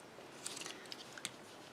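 Teflon multi-purpose tool burnishing the scored folds of a paper box die-cut, giving quiet scraping and crisp rubbing strokes with a few sharper clicks, close and faint, no talking.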